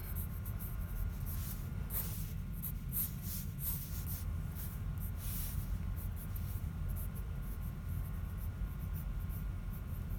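Prismacolor Scholar colored pencils scratch across paper in close, soft strokes, a steady dry rasp with brighter bursts of quick scribbling over a low background hum, no talking.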